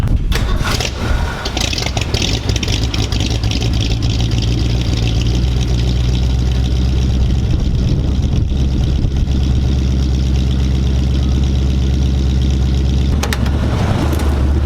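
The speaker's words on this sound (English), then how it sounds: "A little cold start action for you guys, and we'll hit the road." A 1965 Ford Mustang with a freshly broken-in engine fires up from cold and settles into a loud, steady, rumbling idle, close by and unbroken.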